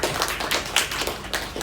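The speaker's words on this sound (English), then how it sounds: "Can we give a big round of applause to Miss Tammin Martin?" A classroom claps for a student reader, a short burst of scattered, uneven hand claps from a small group, fairly close and brief.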